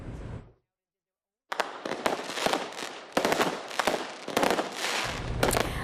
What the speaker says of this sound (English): Last night's rain didn't stop this Diwali fireworks display.